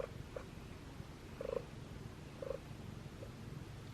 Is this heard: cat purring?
yes